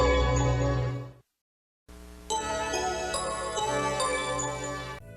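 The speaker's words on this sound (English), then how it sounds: "2 versions have the same theme but in a higher pitch." The DiC Entertainment logo theme plays in a higher-pitched synthesized version, with stepped bell-like notes over a held chord; a different chord stops first, then there is a short silence before the jingle begins.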